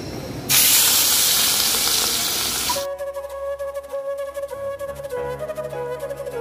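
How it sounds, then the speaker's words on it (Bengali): Fish dropped into hot oil in a thin wok gives a loud burst of hissing sizzle that fades after a few seconds, followed by quieter crackling with an audible tonal hum and background clatter. "তেলটা দিয়ে আবার ভালো করে গরম করে তারপরে মাছটা দিই"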